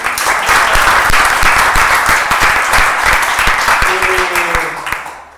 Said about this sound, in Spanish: por aquí, un aplauso